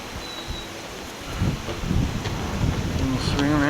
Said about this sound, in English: the weather's getting really nasty out here. It's all turned real gray, the wind's blowing.